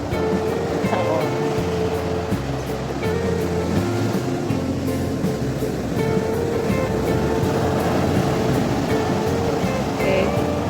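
Steady, loud roar of surf in Bali, Indonesia, with waves breaking continuously, a broad wash of water noise filling the scene with no talking.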